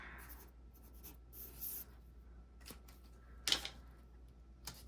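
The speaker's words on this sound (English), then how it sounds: "I'm going to write down that this is 63" Pen writing on paper while a number is jotted down during a savings challenge, producing faint, sparse scratches with a few brief, sharper strokes; quiet overall and no talking.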